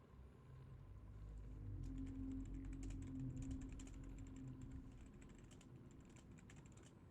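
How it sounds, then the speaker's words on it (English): Quick typing on a computer keyboard, a run of fast clicky keystrokes sounding close by over a low rumble of game audio, with no voices. "I'm typing something up real quick for a friend"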